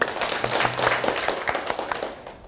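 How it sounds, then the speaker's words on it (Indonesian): Applause from a group of teachers at a school workshop discussion, scattered clapping at moderate distance, fairly dense at first and thinning out toward the end. "Tepuk tangan"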